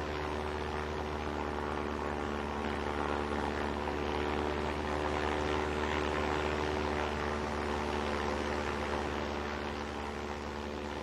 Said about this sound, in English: the high-mounted pusher propeller is the configuration